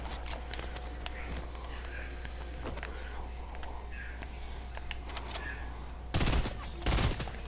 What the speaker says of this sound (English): I can't hit none of my shots.